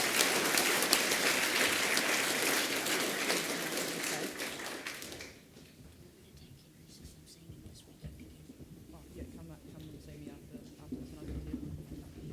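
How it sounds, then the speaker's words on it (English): An audience claps at a school assembly, a dense, loud burst of applause that lasts about five seconds and then stops abruptly, leaving a quiet room. "And can we give them a round of applause?"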